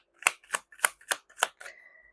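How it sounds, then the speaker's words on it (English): Tarot cards shuffled by hand in a run of six crisp riffling bursts at a steady rhythm, close and clear, ending in a softer sliding rustle with no talking. "If you want to skip the shuffling part, just fast forward it."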